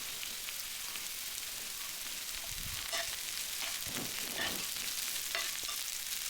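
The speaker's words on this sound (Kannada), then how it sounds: "ಇದು ಈರುಳ್ಳಿ ಎಣ್ಣೆಯಲ್ಲಿ ನೀಟಾಗಿ ಒಂದು 2-3 ಮಿನಿಟ್ಸ್ ನೀಟಾಗಿ ಫ್ರೈ ಆಗಬೇಕು" Chopped onions, green chillies and curry leaves fry in hot oil in a pan, giving a steady close sizzle with occasional louder spitting bursts and stirring scrapes, with no voices.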